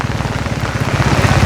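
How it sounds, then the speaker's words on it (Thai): Heavy rain pours steadily and loudly in the afternoon after falling since the night before, a dense, continuous hiss with no breaks from start to finish. "ฟ้าฝนก็ยัง บ่หยุดบ่เซาอยู่"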